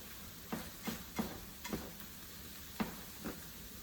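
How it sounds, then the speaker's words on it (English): Chicken taco mixture simmers uncovered in a pan, giving off soft, faint bubbling pops that come at a fairly steady pace. No one speaks over it. "bring it to a boil, and then I'm gonna kick down the heat and let it simmer"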